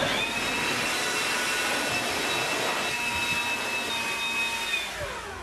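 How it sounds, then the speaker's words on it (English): Electric dust blower cleaning PC parts, a loud continuous high-pitched whooshing whine held steadily for about five seconds before easing slightly at the end. "you could go for one of these dust blowers, which, you know, gives you a little bit more blowing power."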